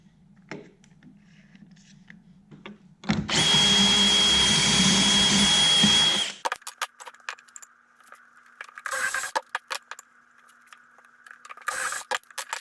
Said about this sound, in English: I'm gonna go ahead and put pocket holes on each end of these boards